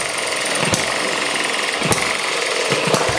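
An ET6 hit and miss engine runs under load, a steady close mechanical clatter broken by sharp periodic firing bangs roughly every second.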